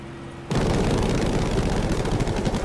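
Spitfire guns strafing infantry in Battlefield 5 burst in after a short quiet moment, a loud, dense rattle of rapid cannon and machine-gun fire over an aircraft roar that continues to the end.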